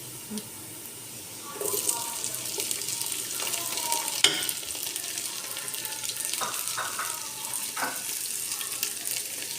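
Diced tomatoes dropped into a pan of frying onions, a sizzle rising suddenly and then settling into steady frying with scattered clinks and scrapes of stirring, fairly close.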